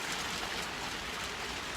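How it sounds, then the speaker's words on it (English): Rain falling steadily, a dense even patter close by with no voices, constant in loudness from start to finish. "listen to the rain"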